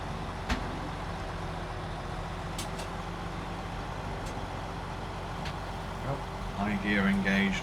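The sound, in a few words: truck driving in SnowRunner video game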